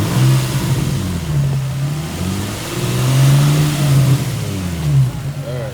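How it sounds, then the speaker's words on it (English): An Infiniti G35 with its muffler and resonator deleted revs in a few rising and falling pulls, a loud, raspy, low exhaust drone close to the microphone, with no talking over it. "I kind of wanted her to rev the car up to like a higher RPM"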